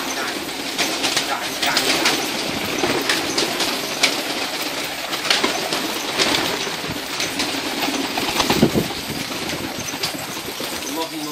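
Shami (Damascene) pigeons, a prized mix of pied and dark birds kept in Jaramana, Syria, coo softly among other pigeon sounds in an evening setting, with scattered clattering and someone talking over them.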